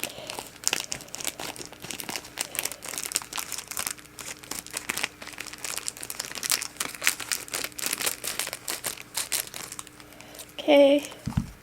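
Crinkly paper packaging rustles and crackles in irregular bursts close up as it is unwrapped, with a voice talking and a brief squeak near the end.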